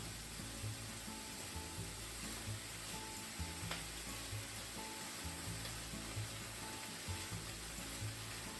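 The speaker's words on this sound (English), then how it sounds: "add bottom half of the spinach. If you're using baby spinach, you can add it all at once. Cook until it's wilted." Spinach wilting in a hot pan gives a steady, quiet sizzle with a few faint scrapes and clinks of a utensil, for a spinach, shrimp and egg stir fry.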